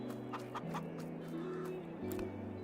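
Chickens cluck in Farming Simulator 22, several short clucks and drawn-out calls overlapping over a steady low hum, moderately loud and without talk.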